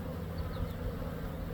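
A surprise swarm of honeybees settling into a nucleus hive makes a steady, dense buzz that holds level throughout, close by and with no voices.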